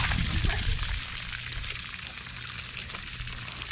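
Water pours and trickles steadily from a leaking kayak hull, a close, continuous liquid splashing and dribbling, heavier at first and then settling into an even flow.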